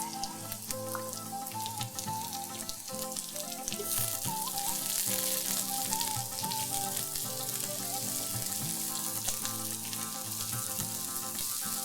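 Onions, garlic paste and capsicums fry in a pan with a constant bright sizzle and crackle, faint in level, with small clinks under the hiss.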